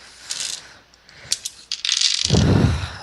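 Dice rattle and tumble in a video game, with a few sharp clicks and clatters followed by a louder rolling rumble near the end.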